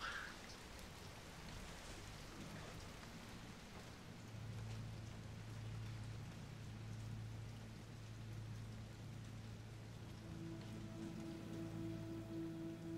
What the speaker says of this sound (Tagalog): Tumigil na ang ulan.